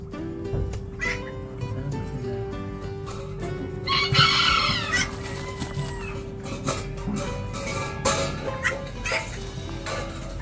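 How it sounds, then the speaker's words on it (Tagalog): A rooster crows loudly over a busy farmyard background of clucking fowl, with scattered squawks and calls throughout. "Kulit na ito mga manok."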